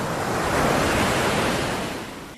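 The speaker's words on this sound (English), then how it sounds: "the sounds of waves crashing" Ocean waves crash steadily against the coast, a loud, dense wash of surf rolling continuously before easing slightly at the end, with no voices.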